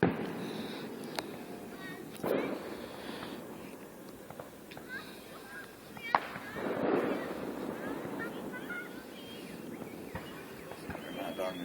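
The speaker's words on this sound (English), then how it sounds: "See the fireworks across the lake." Fireworks going off across a lake, a few distant muffled pops and thuds scattered over a low outdoor background, with people talking nearby.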